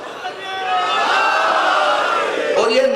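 A crowd at a religious gathering in Jaunpur shouts slogans together, a sustained, loud swell of massed voices lasting several seconds with no break.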